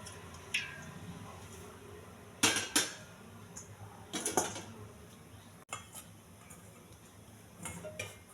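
Metal cookware clatters onto a kitchen stove in a few sharp clanks and scrapes, one cluster around the middle, with quieter taps and clinks later, close by and with no talking.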